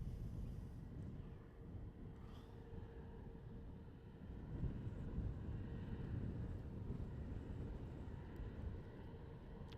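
A jet airliner takes off at night from runway 36L at Amsterdam Schiphol, a faint, distant engine rumble that swells slightly midway, mixed with wind noise on the microphone.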